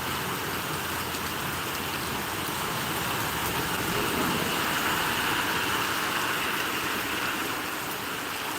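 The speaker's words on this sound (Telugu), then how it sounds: "ఊరి వర్షం చూడండి ఇట్లా పడుతుంది" Very heavy rain pours down on Mulkanoor village, a dense, steady roar of falling water that holds at the same loudness throughout with no break.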